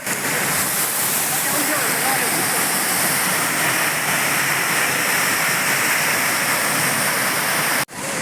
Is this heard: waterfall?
yes